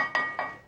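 A lid set onto a cooking pot, two quick light clinks of metal or glass in close succession, ringing briefly before fading, nearby and fairly quiet.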